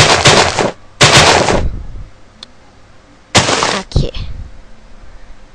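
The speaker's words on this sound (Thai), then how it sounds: "โอเคนี่ก็เป็นระเบิดเดิม" Bombs exploding in Minecraft while a trap is being built: several loud, sharp bursts, two close together at the start and two more later, each cutting off abruptly, with quiet gaps between them.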